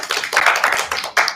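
A small audience at a live academic conference panel in Chicago gives a brief round of applause, quick scattered hand claps, close and fairly loud, with no talk over it.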